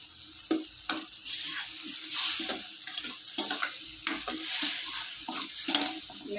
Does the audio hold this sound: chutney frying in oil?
yes